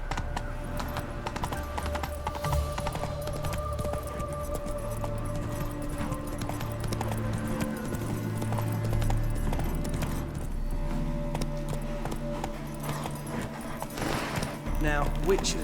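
Hooves of Geralt's horse Roach clip-clopping in The Witcher 3, a steady gait running under game music and a voice throughout.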